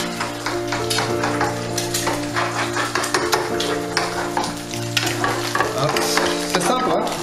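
Eggs fry sunny side up in a pan with a steady, close sizzle, broken by light scraping and clinking of a utensil against the pan, with a soft tonal hum underneath.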